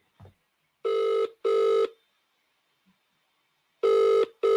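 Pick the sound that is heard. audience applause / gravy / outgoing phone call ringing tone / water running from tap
outgoing phone call ringing tone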